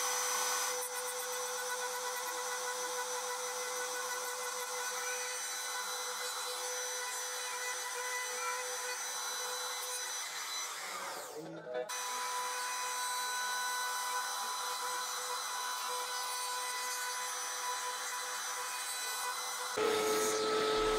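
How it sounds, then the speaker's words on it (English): A router cutting a cavity into a salvaged oak electric guitar body, a steady loud whining drone that runs continuously with a short dip and change partway through, no voices. "I could then come back with the router and take about 3 passes to get the cavity to the correct depth."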